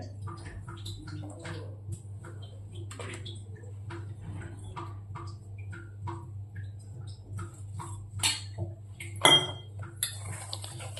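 Egg bonda batter with spices, salt and baking soda is mixed in a bowl, with a spoon scraping and clinking against the sides in irregular taps and a few louder knocks near the end, over a low steady hum.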